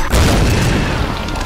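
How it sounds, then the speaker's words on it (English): A grenade launcher explosion in the Tomb Raider video game, a loud deep boom with a rumbling low-end burst that sustains and fades slowly over a second and a half. "Grenade launcher."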